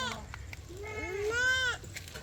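A goat bleats once in a wavering, drawn-out call at a village home, close and fairly clear over a faint background murmur.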